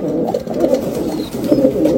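Pet pigeons of Malwai and Andha breeds coo softly and continuously in a loft collection, a steady low warbling murmur from several birds close by with no talk over it.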